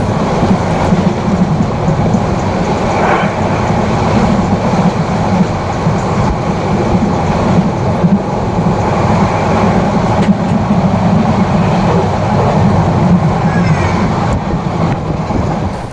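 Steady rumbling drone of a moving train in Bangladesh, heard from inside the carriage on the way to Chittagong, with continuous low rattling and occasional faint clicks, loud and unbroken throughout.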